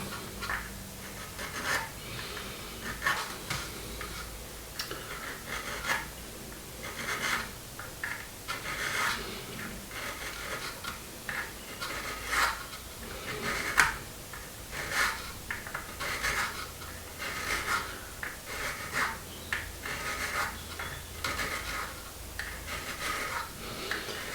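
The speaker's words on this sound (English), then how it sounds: "I'm basically filing it on super glue here because there's a bead of super glue just on the edge there" A file rasping away a bead of super glue along the seam of a 1/24 scale Airfix plastic Spitfire fuselage, heard as close, repeated short scraping strokes in a steady rhythm throughout, with no voices.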